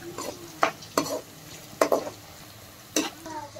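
Whole spices and poppy seeds for egg dum biryani get stirred in a pan. A few distinct scraping stir strokes come at irregular intervals over a faint background sizzle, nearby and fairly quiet.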